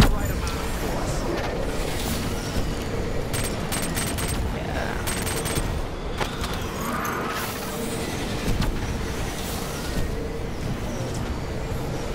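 Gunfire in State of Emergency, a co-op video game: dense, repeated shots running through the whole stretch at steady loudness, with a player's voice heard over the game sounds.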